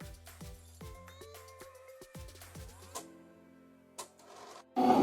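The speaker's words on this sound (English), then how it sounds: "I'm going to go ahead and send this to my cutter." A Cricut cutting machine slices thick VTS Super Pop 700 two-tone heat transfer vinyl. Its motor whirs in stepped tones with quick starts and stops, and ends with a couple of clicks and a louder closing burst.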